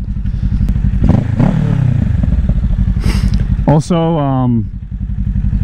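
A Kawasaki Ninja 650 engine runs steadily under way, a loud, continuous low rumble with a brief rev swell, heard under a rider talking close to the microphone.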